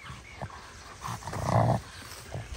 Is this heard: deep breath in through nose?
no